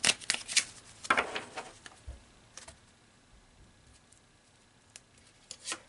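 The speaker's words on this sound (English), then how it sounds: "let's pull a few more cards here" Tarot cards are shuffled and drawn, with quick papery riffles and flicks clustered at the start, then scattered soft taps and slides, close and fairly quiet, with no talking.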